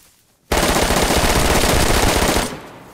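A sustained burst of automatic gunfire in the survival video game DayZ, loud and close, starting abruptly and running about two seconds before cutting off, with no talking over it.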